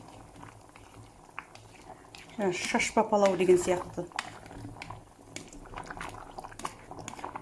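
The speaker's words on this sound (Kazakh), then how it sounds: "Енді бұл жақсы қайнап жатыр" Rice bubbles as it boils in water in a pot, a soft burbling that swells loudly for about two seconds mid-clip, with a person talking over quieter bubbling before and after.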